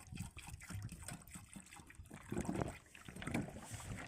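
Water poured from a two-litre Sprite bottle into a Terex road-works machine: uneven glugging and splashing gushes, near and fairly loud, surging in bursts with no talk.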